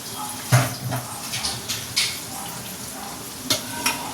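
Kalmi greens frying in a hot pan, with a steady sizzle and intermittent stirring clatter of a utensil against the pan, close and moderately loud with no talking.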